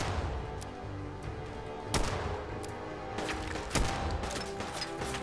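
Gunfire in Fallout 4, several sharp shots spread irregularly over a few seconds, with a couple of louder bursts and clattering mechanical sounds between them over a low ambient rumble.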